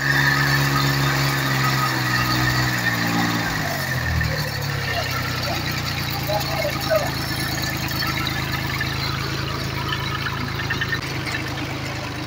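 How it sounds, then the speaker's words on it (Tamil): An 18 hp VST Shakti MT-180D mini tractor's diesel engine runs steadily up close, a continuous loud idle with low harmonic drone that shifts pitch briefly early on, then settles into an even rumble throughout, with no talk. "இப்போ இந்த வண்டியோட இன்ஜின் ரன்னிங் வீடியோவை பார்ப்போம்."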